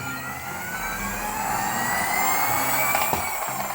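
A small toy car motor whirs with a thin, steady high-pitched whine, running continuously at close range.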